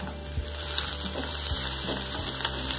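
Green chillies dropped into a hot pan of oil with grated garlic and ginger, cooking for a spicy tofu chili dry. A steady, close sizzle hisses evenly throughout, with a few faint clinks on top.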